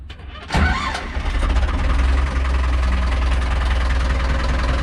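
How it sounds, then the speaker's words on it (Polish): An Ursus C360 4x4 tractor diesel engine, freshly fitted with a regenerated turbocharger, cranks and catches, then settles into a loud, steady, rumbling idle close by, with no talking. "także odpalamy go i niech się grzeje"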